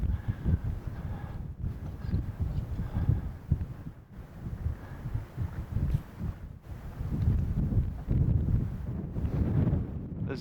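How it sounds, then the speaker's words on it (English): Strong, gusting wind buffets the microphone at the top of North Glacier Pass in the High Sierra, rising and falling in rough surges with no voices. "This is the top of North Glacier Pass. Very windy."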